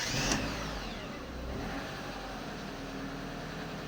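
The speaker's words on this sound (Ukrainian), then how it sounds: "Запускаємо двигун." A ZAZ Sens car engine cranks briefly and catches, then settles into a steady, slightly high cold idle, close and fairly quiet.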